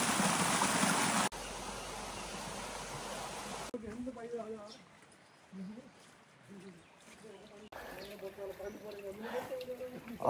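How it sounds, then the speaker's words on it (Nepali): Water rushing down from above at Wadi Shees in Oman during rain: a loud, hissing rush at the start, then after abrupt cuts a quieter outdoor scene where voices talk over faint flowing water. "यसरी पानी आइरहेको छ माथिबाट।"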